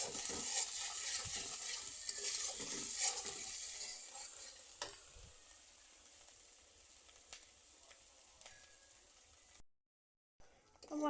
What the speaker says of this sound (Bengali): সামান্য পরিমাণ লবণ দিয়ে 2 মিনিট ভালো করে কষিয়ে নেব।